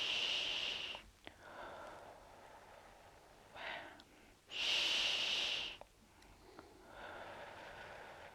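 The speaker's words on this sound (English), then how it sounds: "I just need to take in a couple of deep breaths" A person takes slow, deep breaths before giving a massage: a long airy exhale at the start, a shorter breath in the middle, then one strong breath near and clear. Quieter breathing fills the gaps.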